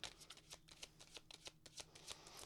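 Tarot cards are shuffled by hand in quick, rhythmic riffles and soft flicks, close and quiet with no talking.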